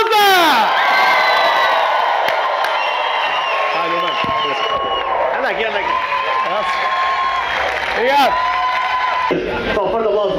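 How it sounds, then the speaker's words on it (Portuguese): A festival crowd at MEO Marés Vivas 2023 cheers and applauds as the headliner is introduced, loud whoops and shouts over dense clapping, with a voice on a PA talking through it. "recebam com um forte aplauso o cabeça de cartaz desta noite, Hugo Sousa!"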